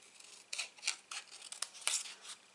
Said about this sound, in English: And snip that off the bottom there.